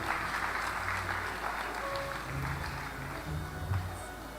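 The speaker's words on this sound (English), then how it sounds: "Please, let's give him a round of applause," A crowd at a medical graduation induction ceremony claps steadily throughout, a continuous wash of applause with faint voices murmuring underneath.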